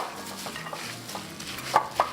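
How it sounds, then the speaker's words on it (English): Homemade cornbread stuffing being stirred together with chicken sausage, a soft continuous scraping and mixing with a couple of louder knocks from the utensil near the end. "we're going to mix it with the chicken sausage."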